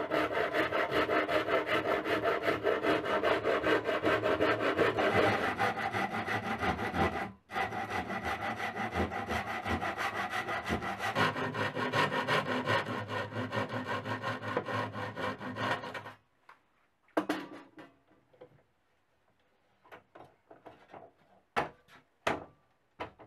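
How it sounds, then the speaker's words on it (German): A hand saw cuts through a wooden board clamped in a vise while a nest box is being built. Steady, close rasping strokes run for about sixteen seconds, then stop, followed by scattered knocks and light handling noises. "Sobald eine kleine Kerbe im Holz ist, nimmt man den Daumen weg und zieht das Sägeblatt vollständig durch."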